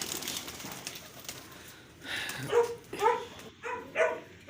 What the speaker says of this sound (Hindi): ये मेरे डब वाले कबूतर हैं